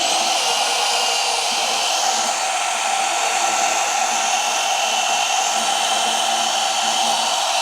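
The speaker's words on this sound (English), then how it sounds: "we'll turn the magnet on, we'll start the motor" The motor of a magnetic drill press runs at steady speed. It gives a loud, continuous high whine that holds unbroken throughout, with no talk.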